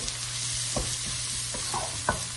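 Onions frying with spices and salt in a pan for spicy egg curry sizzle steadily, punctuated by several sharp stirring scrapes of a spatula.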